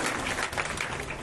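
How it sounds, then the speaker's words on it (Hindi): Audience clapping at a Shrimad Bhagwat Katha gathering, a dense burst of many hands applauding steadily and evenly throughout, close and loud with no talk over it. "इनके लिए ताली बजाएगी"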